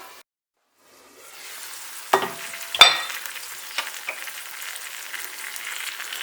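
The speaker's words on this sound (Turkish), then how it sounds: "Şimdi domatesler hafiften yumuşayıncaya kadar pişireceğim arkadaşlar." Salted tomatoes cook in a covered pan, the sizzle rising after a moment of silence, with a couple of sharp lid or utensil knocks, then a steady soft frying hiss.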